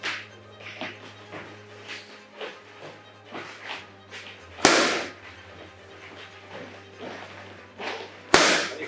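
Boxing punches thud onto pads or body in a liver-shot drill, mostly soft rhythmic impacts with two loud, sharp cracking hits standing out, alongside a faint steady background hum.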